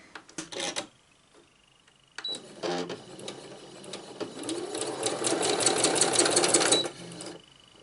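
Sewing machine stitching fabric for 3D textile work with wire, run by foot pedal: short bursts of rapid mechanical whirring, then a longer, steadily louder run of stitching that stops abruptly, close and clear with no talk.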